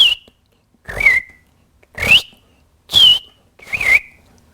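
A person whistles an imitation of a western tanager's robin-like song, five clear, slightly buzzy phrases spaced about a second apart, close and loud with silence between.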